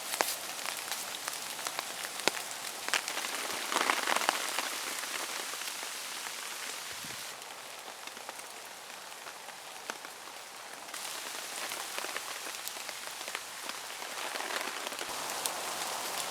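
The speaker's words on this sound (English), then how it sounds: "We're gonna wait this rain out" Steady rain falls and patters on a surface, a dense continuous hiss with scattered close drops, no voices.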